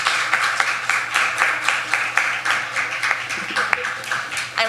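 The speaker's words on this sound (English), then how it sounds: "we invite the women up just for one last round of applause" Audience applause at a Techtonica tech demo event held at GitHub: a dense, steady wash of many hands clapping, fairly close and sustained throughout, with a few voices mixed in.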